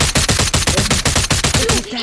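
Rapid automatic gunfire in the video game Warzone, shots hitting a tree: a loud, steady burst of about a dozen evenly spaced rounds that stops abruptly near the end.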